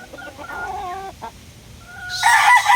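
A Kelso bloodline gamefowl rooster crows nearby in a loud, clear call that breaks off briefly and resumes, rising to a bright, strong finish.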